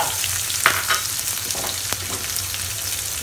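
Onions frying in hot oil with cardamom pods, cinnamon sticks and cloves, a steady close sizzle broken by a few sharp crackles and stirring scrapes, with no talking.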